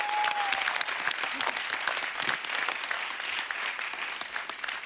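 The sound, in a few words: studio audience applause on a comedy show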